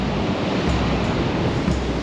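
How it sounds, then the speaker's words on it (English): Waves wash steadily onto the Pacific coast near a small village headland, a dense, continuous roar of surf with slight swells and no voices. "We're right here on the Pacific Ocean."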